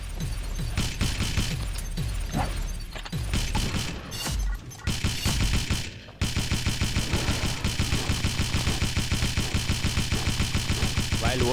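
Rapid gunfire in the mobile shooter Pixel Gun on a beach map, dense bursts of shots with game effects, then a steady rhythmic automatic stream of repeated shots through the end.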